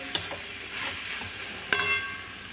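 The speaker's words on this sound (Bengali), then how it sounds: "আরেকবার ভালো করে নেড়ে নিচ্ছি" Tomato chutney in a pan is stirred, giving soft scraping strokes over a low sizzle, with a sharp metallic clink of utensil on pan near the end.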